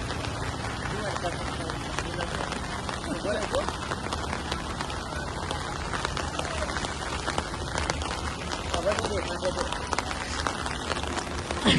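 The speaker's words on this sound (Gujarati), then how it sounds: "ગાઈસ તમે જોઈ શકો છો વરસાદ ફૂલ ચાલુ છે" Heavy rain pours down steadily in a flooded town beside the Saraswati river at Siddhpur, a dense unbroken hiss with a voice faintly heard beneath.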